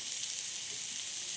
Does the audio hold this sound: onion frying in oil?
yes